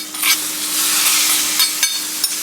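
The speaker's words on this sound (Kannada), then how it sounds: "ಅದಕ್ಕೆ ನಾವು ಈ ಮಾಡಿಟ್ಕೊಂಡಿರುವಂಥ ಒಗ್ಗರಣೆನೂ ಹಾಕ್ಬಿಡಿ." Hot tempering goes into curd mixed with roasted eggplant and is stirred, giving a close, bright sizzle with scraping stir strokes over about two seconds.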